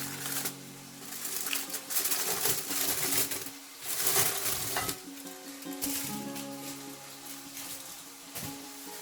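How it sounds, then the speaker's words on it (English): Aluminium foil is peeled off vegetables cooking in a halogen oven, giving repeated crackling, rustling bursts against a faint background hum, fairly close and uneven in rhythm. "I'm gonna take the foil off now"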